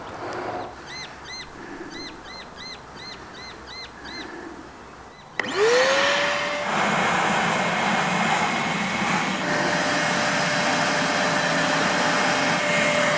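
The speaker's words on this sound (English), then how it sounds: "Have a bit of a practice run with our sucker machine." Birds chirp in the background, then a bee-removal vacuum motor switches on abruptly outdoors by a tree stump, whining up in pitch and settling into a loud, steady roar.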